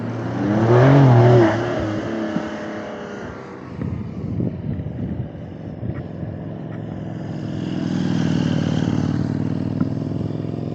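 Porsche cars driving up the Stelvio Pass mountain road, an engine rising loudly then fading as it passes, followed by further engine drone in the distance that swells again toward the end.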